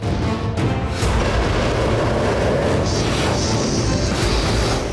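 Loud, dense blast from an anti-ship ballistic missile strike on a ship in the Red Sea, a sustained roaring rumble with crashing bursts throughout, no voices.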